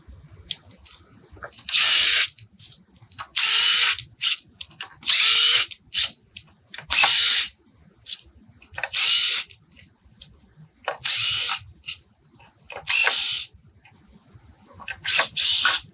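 Power drill backing screws out of a sauna spacer, about nine loud whirring bursts of a second or so each, separated by short quiet gaps, close up.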